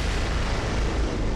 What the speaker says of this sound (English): That's a cannon.